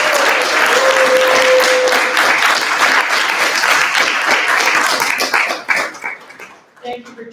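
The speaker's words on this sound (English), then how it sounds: "Can we have a big round of applause for all of them?" An evening audience gives a big round of applause, loud dense clapping for about five seconds before fading out, with a brief tone and scattered voices near the end.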